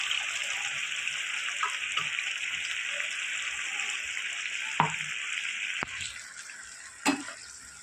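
Bengali vegetarian chhana dalna gravy boils hard in a pan, a steady, close bubbling hiss. A few clinks and knocks from the pan break in near the end.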